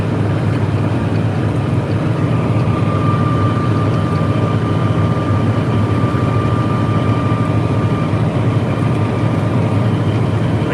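A large 8-foot-wide snow blower with 6-inch side extensions, driven by a roughly 180 to 200 horsepower machine, drones steadily and loudly with a constant whine, no pauses.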